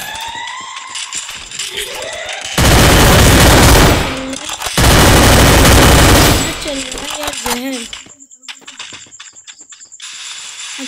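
Dense bursts of gunfire from the Free Fire video game, two long loud blasts of rapid fire between about 2.5 and 6.5 seconds, then fading into quieter game effects with a brief voice underneath.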